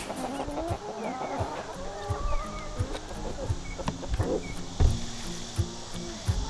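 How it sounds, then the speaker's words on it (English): Several chickens cluck and murmur close by, scratching softly as they tear through dumped kitchen and garden scraps, with a few sharper squawks, and insects buzz faintly in the background. "So the chickens are going to take care of that for me"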